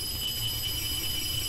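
A phone rings in the video game DeadStep as a steady, shrill electronic tone that holds unbroken across the short stretch, with a low rumble underneath and no talking.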